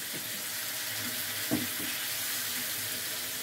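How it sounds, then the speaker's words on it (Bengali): Hot water poured into a pan of simmering egg omelette curry with potatoes, giving a steady hiss and sizzle with a few soft splashes, fairly quiet and unbroken by talk. "এখন একটু আমি গরম জল দেব।"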